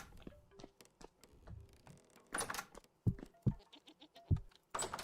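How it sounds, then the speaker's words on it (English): Goats bleat in the modded hardcore survival game Vintage Story, several short separate bleats spread irregularly across a quiet backdrop, close and fairly loud. "Let's get some more food for the goats."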